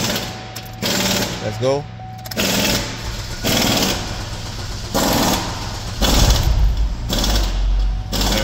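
A Chevy Equinox engine is cranked after its high-pressure fuel pump is replaced, with rhythmic, pulsing starter bursts close by that give way to running; a voice speaks briefly over it.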